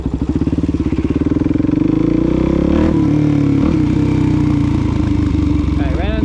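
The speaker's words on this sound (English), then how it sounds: "right on this grass it just spins here" A DRZ400 motorcycle's engine revs hard and steadily as its rear wheel spins on wet grass on a rainy day, a loud, close, continuous drone that dips briefly around midway before climbing again.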